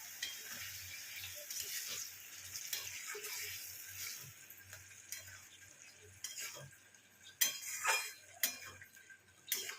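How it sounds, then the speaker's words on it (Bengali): Chingri bata, a shrimp paste, being stir-fried in oil in a pan, with a soft steady sizzle, scraping and clinking of a spatula against the pan, and louder knocks near the end. "এবার এটাকেও ভালো করে কষাবো।"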